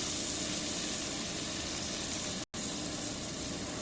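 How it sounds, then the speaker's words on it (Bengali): Water poured into a very hot pan of fried onions, giving a loud, steady broadband hiss of steam and sizzle that runs unbroken for several seconds apart from one brief cut. "পানি দিয়ে দিলাম।"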